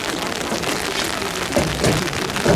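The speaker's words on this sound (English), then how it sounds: "Rain is coming down now." Steady rain pours down on an outdoor soccer field during a high school game, a continuous broad wash of drops with a few slightly louder gusts, no talking.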